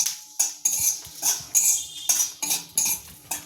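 A metal spatula scrapes and clinks against a kadai in quick irregular strokes as small chillies are dry-roasted without oil, each stir a sharp close scrape repeated about eight times.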